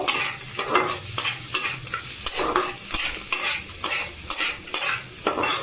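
A spatula stirs fried ingredients for Maggi noodles around a pan in steady, repeated scrapes with a faint sizzle underneath, close and fairly loud, with no voices.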